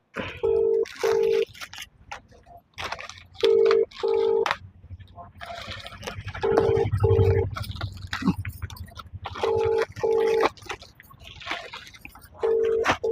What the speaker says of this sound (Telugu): ఇప్పుడు బుక్లో నెంబర్ చూసి ఫోన్ చేస్తాను